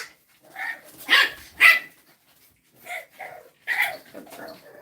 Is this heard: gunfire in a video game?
no